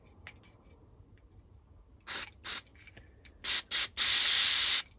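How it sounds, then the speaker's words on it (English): Carburetor cleaner spray bursts from an aerosol can in a quiet workshop: two short hissing squirts, a pause, two more, then one longer sustained blast, close and loud against faint background hum. "When you're doing carb spray, make sure you're just facing it all away from you"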